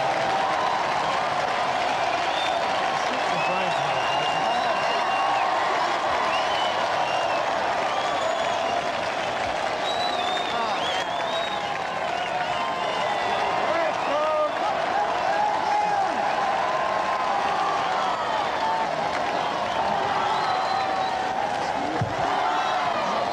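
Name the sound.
crowd roaring and applauding outside Buckingham Palace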